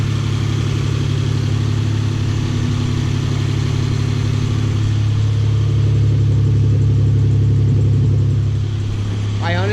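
A car engine fitted with a small muffler idles steadily and fairly quietly, with a low, even drone that holds throughout and a brief voice near the end.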